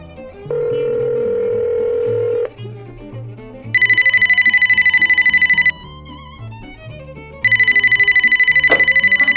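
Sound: telephone ringing

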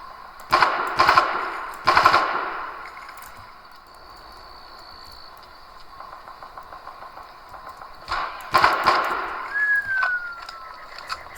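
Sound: gunfire in the video game Far Cry

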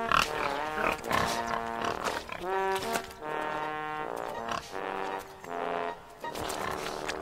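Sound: pigs rolling in the mud

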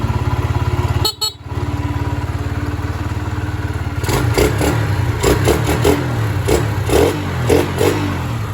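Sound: Honda Sonic 125 motorcycle engine running smoothly

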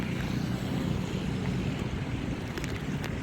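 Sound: heavy rain and flooding river water

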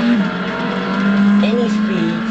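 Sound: Subaru Impreza or Mitsubishi Evo X cornering at speed

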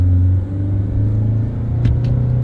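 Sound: Isuzu 2.2 engine accelerating through gears on test drive

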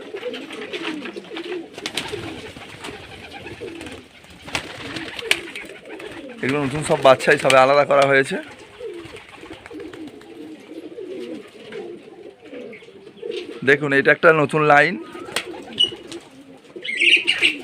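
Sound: pigeons cooing while waiting for food

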